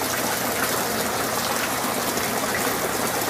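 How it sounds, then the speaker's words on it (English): Water drains steadily out of an aquaponics grow bed, a continuous close gushing, splashing flow with no voices. "the water coming out there, it's already looped over and it's draining out"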